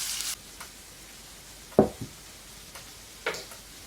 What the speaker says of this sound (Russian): у нас жарится лучок